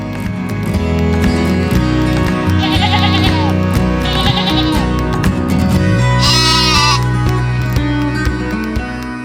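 Sheep at an inspection facility before export bleat in several short, wavering calls over a loud, continuous background din.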